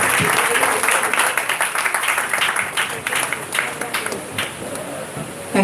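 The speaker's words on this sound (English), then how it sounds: "Give a big, big round of applause for Mrs." Applause from an audience at a community award presentation honoring a recipient, a steady dense wash of clapping that stays loud throughout, with some voices mixed in.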